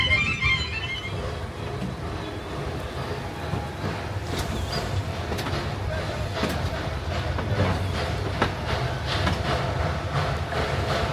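A narrow-gauge mountain railway train in the Carpathians at Vișeu de Sus, Romania, runs steadily with constant rumble and scattered wheel clicks and rattles, loud and close throughout.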